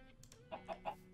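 Three short clucks from a chicken in the video game Minecraft, evenly spaced and moderately loud over a quiet game background.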